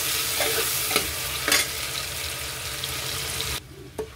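Finely chopped onions sizzle steadily in hot oil in a pan while being stirred for a beef chops biryani, with a few scraping stir strokes before the frying noise cuts off abruptly near the end.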